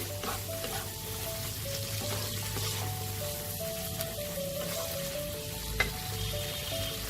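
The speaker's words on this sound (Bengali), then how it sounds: "মশলাটা থেকে যতক্ষণ না আমাদের তেলটা আলাদা হয়ে যাচ্ছে ততক্ষণ এটা আমাকে কষাতে হবে।" Spice paste for a pointed gourd and prawn curry sizzles steadily in hot oil as it is stirred. The frying hiss is close and continuous, with soft scraping from the stirring and no talk.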